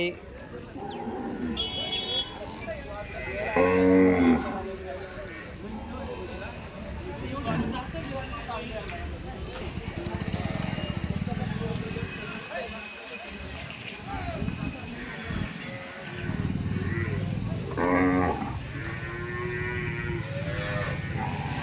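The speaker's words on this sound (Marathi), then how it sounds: "तुम्हाला जातीवंत गिर गाई पाहायला भेटतील" Gir cows moo loudly a few times, long drawn-out calls over a busy crowd of people talking at a cattle market, with occasional vehicle noise in the background.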